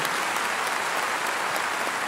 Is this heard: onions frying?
no